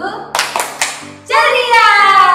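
Children at a Sunday gathering performing a rhythmic clap chant, three sharp close claps in a steady beat, followed by voices chanting together in unison.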